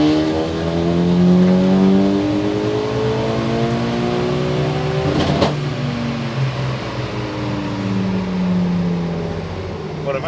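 A Mitsubishi EVO 9 roars through a full-throttle dyno pull in 4th gear, its loud engine note climbing steadily in pitch over several seconds, then cutting sharply as the throttle lifts and settling into a lower drone as the rollers wind down.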